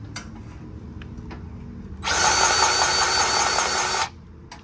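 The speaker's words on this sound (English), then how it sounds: "Grease gun." A grease gun working a fitting on a Volvo semi truck lets out one steady two-second burst of loud, dense hissing whir, with quieter shop ambience before and after.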